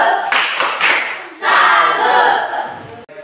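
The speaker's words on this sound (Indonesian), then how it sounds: "Tepuk salut untuk Morgan dulu." A group claps together in short loud bursts, a brief pause between two rounds of sustained clapping, close by.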